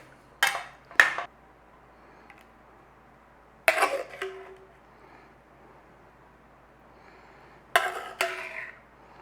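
Paneer kadhi and rice being spooned onto a plate, with three separate bursts of scraping and clinking from a utensil against dishware and pauses between them.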